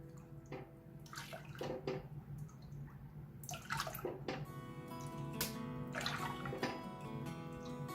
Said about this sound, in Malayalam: നമുക്കിനി ഇതിലേക്ക് 3 കപ്പ് പാല് ചേർത്ത് കൊടുക്കണം.